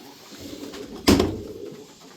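Steady outdoor bird ambience with a sudden loud flutter of wings midway, followed by softer cooing and rustling from tumbler pigeons nearby eating feed on the ground.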